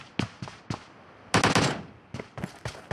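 PUBG Mobile gunfire on the Erangel map, a few separate single shots followed by a rapid automatic burst and more short volleys, loud and close, with no talking.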